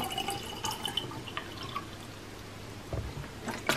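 Water trickles and drips into a jar in short, close splashes, with small clinks and a steady low background hum.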